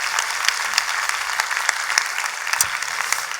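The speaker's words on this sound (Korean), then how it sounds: "하나님께 영광의 박수 한번 올려드리도록 하겠습니다." Steady, dense applause from a church congregation, many hands clapping continuously at an even level throughout with no talk over it.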